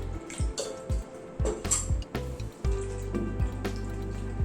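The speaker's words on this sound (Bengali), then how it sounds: "এই গ্রাইন্ডিং জারটার মধ্যে সামান্য একটু জল দিচ্ছি" A little water poured into a grinding jar while making an oats breakfast batter, splashing and trickling in short bursts with knocks and a steady pour toward the end, close.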